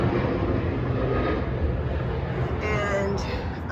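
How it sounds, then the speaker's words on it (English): An airplane passes overhead as a steady, broad rumble that fills the scene over rainy weather at a balcony, with a person speaking over it. "Another plane going overhead."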